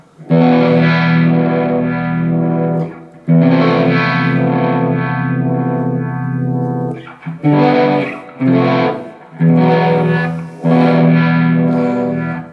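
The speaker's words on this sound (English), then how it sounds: "Put the tube screamer on." Electric guitar through a Tube Screamer overdrive pedal into an amp's clean channel, playing loud, mildly distorted sustained chords in several phrases, with short choppy strums near the end and no voices.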